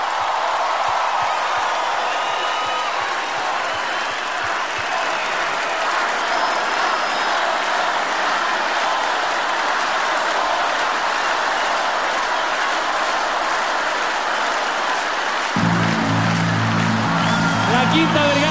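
A concert crowd at the Viña del Mar festival in the Quinta Vergara amphitheater applauds: dense, sustained clapping and cheering from a large audience, with music rising in near the end.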